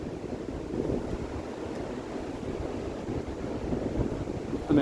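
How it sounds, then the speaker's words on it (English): Wind rushes through trees on a hilltop nature spot overlooking Sheffield, a steady, faint broadband roar like a distant aircraft, continuous with no voices. "It's the wind through the trees."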